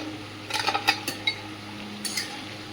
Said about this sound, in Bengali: এদিকে ঢাকনাটা খুলে দেখে নেব।